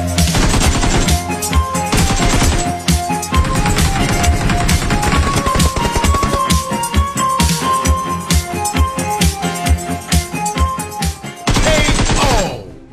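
Gunfire in a shooting video game, loud rapid bursts of automatic shots and single cracks in dense succession over game sound and music, nearly continuous.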